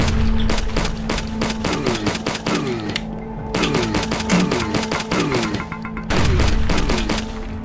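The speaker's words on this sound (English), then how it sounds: "big boy throwing grenades at me" Gunfire and grenade blasts from enemies in the shooter HROT, dense rapid loud bursts of shots with booming explosions, steady and intense throughout, briefly dropping out near the middle.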